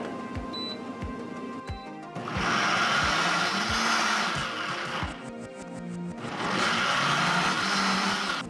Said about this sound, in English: Put the hot mix in the blender and blend it.